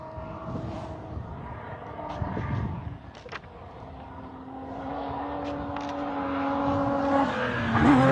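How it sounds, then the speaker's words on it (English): A BMW M3 rally car tackles the jump on Oregon Trail Rally stage 11 at Boyd Loop, its engine rising and falling in the distance, revving up as it closes in. "Another BMW."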